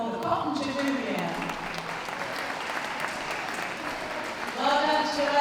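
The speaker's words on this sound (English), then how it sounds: "give them all a good round of applause" Audience applause at a championship dog show, a steady wash of clapping from a crowd that stays even throughout and swells slightly near the end, with voices heard alongside.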